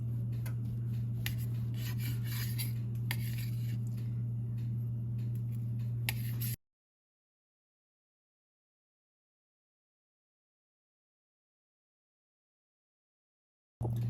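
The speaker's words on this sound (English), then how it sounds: "So yeah, just gonna cut the slices." A knife saws through bread into slices with rough, rasping strokes and small taps over a steady low hum, then drops to total silence for several seconds before a brief return.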